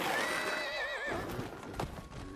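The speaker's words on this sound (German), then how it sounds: "Die Zeit drängt und Gandalf der Graue reitet nach Isengard" In the Lego Lord of the Rings video game, a horse gives a loud, close whinny with a wavering pitch as Gandalf rides, then hooves clop briefly.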